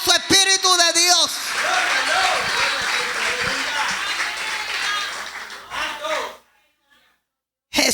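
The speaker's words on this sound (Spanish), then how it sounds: "Más fuerte para el Señor ese aplauso." A church congregation applauds with loud, dense clapping, while a voice speaks over the start and the sound cuts off abruptly into near silence near the end.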